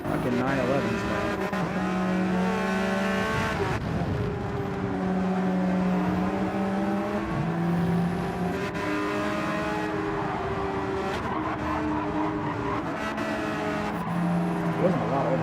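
Audi R8 and Porsche 911 race cars in a racing video game at Fuji Speedway, a continuous engine drone with rising and shifting revs and gear changes, loud and steady, with tire squeal.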